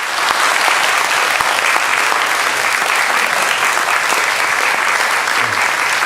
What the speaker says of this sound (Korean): 여러분 큰 박수로 한번 환영해 주시기를 바랍니다